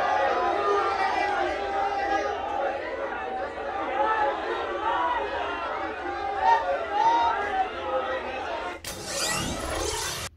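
Loud, continuous chatter from a large crowd thronging around PM Modi at a tea stall, many overlapping voices close by, ending in a sudden burst of broadband noise.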